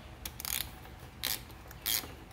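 A ratchet turns a 13 millimeter bolt on a 2017 Yamaha 115 SHO outboard, giving three short bursts of clicking, close and fairly quiet, with pauses in between.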